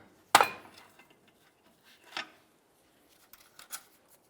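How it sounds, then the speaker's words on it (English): A pry bar strikes a plastic bellows boot clamp on a 2007-12 Nissan Sentra, giving one sharp, loud crack near the start, followed by a softer knock and a few faint clicks in an otherwise quiet space. "So I'm going to rest my bar on it, give it a loving bonk,"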